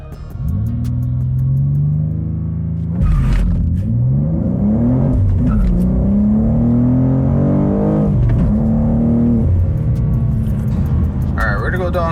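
A BMW G87 M2 engine revs up and accelerates hard through several gears, pitch climbing and dropping with each shift, loud and close.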